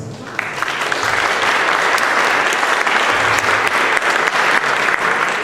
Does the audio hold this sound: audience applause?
yes